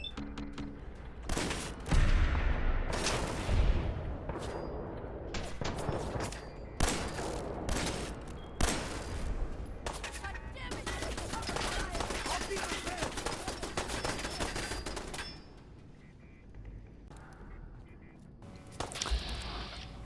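Fallout 4 gunfire crackles in bursts and rapid volleys, loud and close, with scattered single shots, a dense stretch of sustained fire, then a quieter lull and a final shot.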